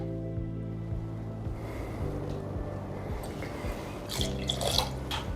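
Homemade coconut water is poured for a mojito, a faint liquid trickle under soft background music, ending with a brighter splash and drips near the close.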